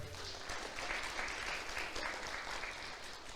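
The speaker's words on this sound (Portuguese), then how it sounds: "Aplauda o Senhor por isso." Congregation applauding in a church, a steady, dense wash of clapping that holds at an even level throughout, heard from within the crowd with no clear voices over it.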